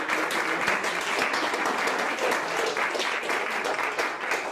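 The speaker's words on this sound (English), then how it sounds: "Can we give a round of applause to our panelists?" Sustained applause from a forum audience for a panel, an even wash of clapping throughout, moderately loud and continuous.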